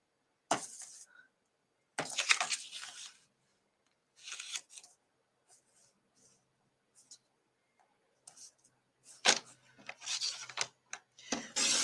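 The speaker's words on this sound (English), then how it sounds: "I'll trim this down a little bit." A paper trimmer cuts cardstock for a craft card in short, crisp slicing and rubbing bursts with quiet gaps between, close and fairly soft, with no talking.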